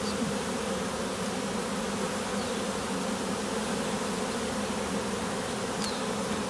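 A honeybee swarm hums and buzzes steadily around a swarm box outdoors, a dense, continuous drone at even loudness with no voices, a few individual bees passing close near the end.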